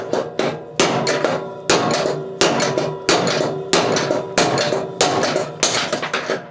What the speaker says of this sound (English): Let's get a different hammer. Let's drive our bottom bearing out first.